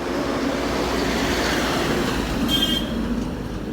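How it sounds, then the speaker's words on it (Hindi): A vehicle rolls past on a road outside a Royal Enfield motorcycle service setting, giving a loud continuous rumbling wash of traffic noise with a brief high squeal near the end and no voices. "गाड़ी जा रही थी, थोड़ा शोर आता है।"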